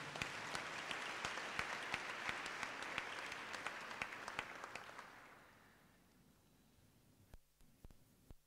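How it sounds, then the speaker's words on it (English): A crowd at a business school graduation ceremony applauds steadily for several seconds, then the clapping thins out and fades to a few scattered claps. "I think we deserve a round of applause."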